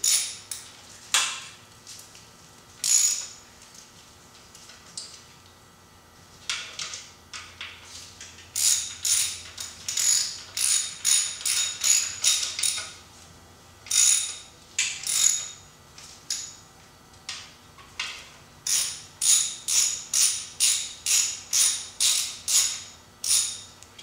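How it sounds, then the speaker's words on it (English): A hand wrench ratchets in repeated bursts of sharp metallic clicks while a crankshaft locking pin is fitted on an engine, close and loud, with short pauses between strokes and no talking. "Wrench."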